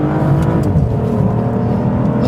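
An Aston Martin DBS Volante pulls hard on a race track, its engine a loud, sustained roar under steady throttle heard from inside the car.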